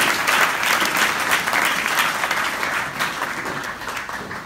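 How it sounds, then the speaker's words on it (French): A church congregation claps and cheers for the Lord during a bilingual French and Portuguese service, a dense, steady wave of applause that carries on for the whole stretch without letting up. "On peut acclamer pour le Seigneur."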